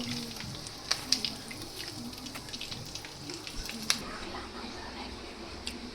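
Curry leaves frying in hot oil while making green poha chevdo: a steady sizzle runs throughout, broken by several sharp crackles and pops, close up, with a voice talking faintly.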